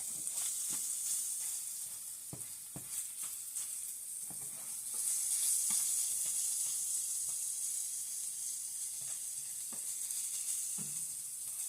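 Ground turkey sizzles quietly in a pan, a steady soft hiss with occasional faint stirring clicks and a slightly louder swell midway.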